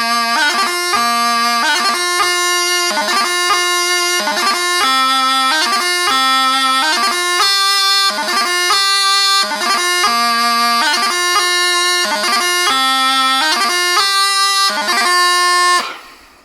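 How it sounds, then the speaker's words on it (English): Highland bagpipe playing a normal Crunluath variation of piobaireachd at moderate tempo, a loud continuous drone under repeating melody notes broken by crisp, regular gracenote embellishments before it cuts off. "So a normal Crunluath variation might sound like this and probably around"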